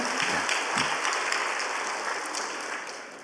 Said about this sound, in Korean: 아가페 찬양대께 다시 한번 박수 보내드리겠습니다